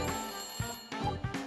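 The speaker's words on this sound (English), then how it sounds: "Oh, that's the phone. I'll get it." Telephone ringing in the Layton Brothers: Mystery Room game sounds in repeated electronic bursts about every third of a second, moderately loud, with soft game music beneath and no voices.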